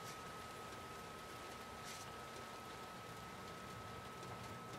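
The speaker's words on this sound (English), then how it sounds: "wow, look at the rain." Steady rain in The Last of Us Part 2, a constant soft hiss of falling water that holds level across the whole stretch with no other sound standing out.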